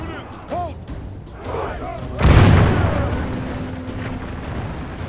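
Gunners loose a volley in the Medieval II: Total War video game, a loud booming crack of massed fire that decays into a rumbling tail, with a voice talking over it and earlier game sounds.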